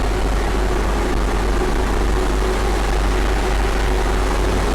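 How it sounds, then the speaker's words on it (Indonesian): Loud, constant engine drone with a deep low hum and steady mechanical roar inside the 1950s-era engine room of the Indonesian navy sailing ship KRI Dewa Ruci. "Ini agak bising nih, ruang mesin."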